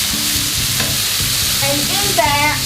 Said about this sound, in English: you will basically fry that on really high heat